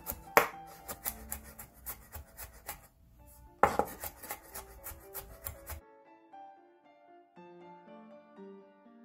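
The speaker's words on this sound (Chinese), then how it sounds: "接下来呢，我们把这个蒜呢切成" A knife finely chopping garlic on a board for Korean spicy stir-fried rice cakes: two runs of quick, crisp, close chops with a brief pause between, then the chopping stops.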